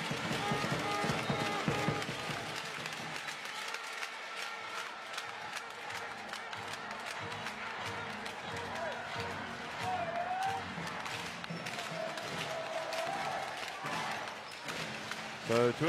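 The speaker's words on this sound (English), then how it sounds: "And the crowd is into it." Crowd noise in a basketball arena during a Basketball Champions League game between SIG Strasbourg and Umana Reyer Venezia: a busy, distant hum of fans with scattered shouts, sneaker squeaks and bounces, under ongoing commentary.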